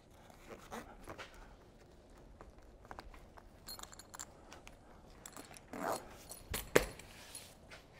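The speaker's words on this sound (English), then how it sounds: "as we're zipping it up, just make sure everything's tucked away and you're not catching anything on the zipper" A zipper on a shower tent awning is pulled closed in short, quiet bursts of rasping, with faint rustling of fabric and a few sharper zips near the end.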